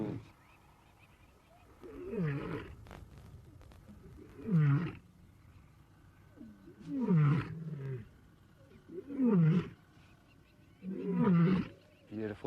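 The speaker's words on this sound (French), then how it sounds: "C'est fabuleux quand le mâle rugit pour affirmer son autorité." A male big cat roaring, five deep rhythmic grunting roars at roughly two-second intervals, close and loud, with faint background sound between calls.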